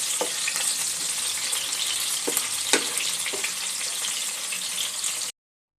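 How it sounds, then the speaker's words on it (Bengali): Fish pieces shallow-frying lightly in oil in a pan, a steady close hiss of sizzling with occasional sharper pops and crackles, running continuously without any talk before cutting off abruptly at the end. "মাছগুলো হালকা করে ভেজে নেব। আর একটু হালকা ব্রাউন করে ভেজে নেব।"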